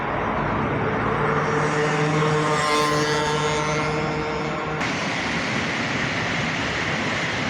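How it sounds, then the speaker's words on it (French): The Cascade de la Combe waterfall at Dortan, heard in autumn from in front of the falls, a loud, unbroken rushing roar with a faint low hum running beneath it. "Maintenant je suis en face de la cascade."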